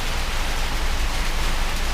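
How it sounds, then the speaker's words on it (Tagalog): Heavy rain pours steadily and loudly, a constant dense hiss with no breaks and no voices. "ang lakas ng ulan dito sa amin mga Lods."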